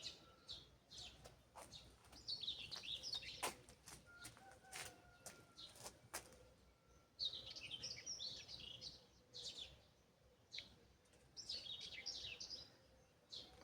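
Nightingale singing in a rain-washed summer garden, bursts of high trilling phrases coming in short runs with pauses between, faint and somewhat distant against quiet outdoor ambience.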